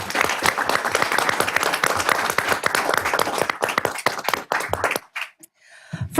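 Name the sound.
audience applause at township board meeting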